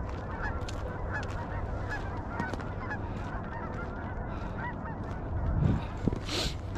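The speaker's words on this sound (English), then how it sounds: "geese kind of morning, let's call it" A large flock of geese honks continuously on a Colorado morning, many overlapping calls spread near and far over a steady low rumble, with a few louder honks standing out toward the end.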